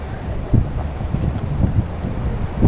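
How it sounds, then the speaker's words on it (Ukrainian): Wind blows at a horse farm, buffeting the microphone in low rumbling gusts that rise and fall, close and loud, with no voices. "Сьогодні вітряно."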